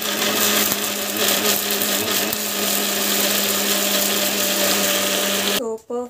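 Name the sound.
mixer grinder grinding chutney paste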